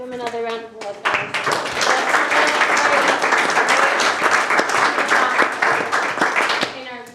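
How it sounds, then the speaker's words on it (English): Loud, sustained audience applause fills a public meeting, with a voice speaking briefly before the clapping swells and holds steady to the end. "Give him another round of applause, guys."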